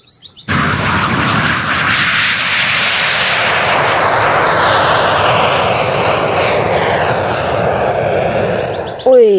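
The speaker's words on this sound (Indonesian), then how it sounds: "Wow, ada pesawat tempur." Steady roaring jet-like engine drone from a toy fighter jet, loud and continuous for about nine seconds after a few brief clicks, with no talk over it.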